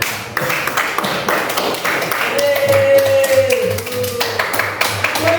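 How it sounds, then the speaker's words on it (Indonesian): Students in a vocational high school classroom applaud after a group presentation, quick scattered claps building into a burst, while voices and a teacher's speech carry on over the clapping. "terima kasih tepuk tangan"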